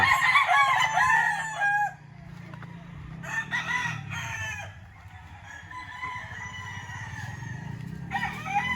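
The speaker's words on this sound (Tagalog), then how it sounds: "Pili tayo ng mga manok ni Sir B-Boy" Roosters crow loudly several times, with long drawn-out calls near and far over a low steady background hum.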